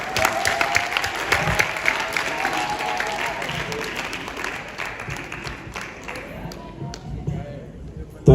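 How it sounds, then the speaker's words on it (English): Audience clapping for the chief of Bondali at a CorpsAfrica pitch day in the Gambia, moderate and uneven applause with voices mixed in, thinning toward the end. "Let's clap for the chief."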